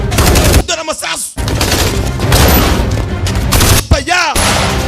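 Loud, rapid gunfire rattles almost without a break in a Kinyarwanda-dubbed action film, with a voice briefly calling out over the shooting twice.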